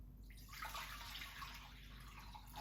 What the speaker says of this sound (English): it's time to add all our water in a bowl.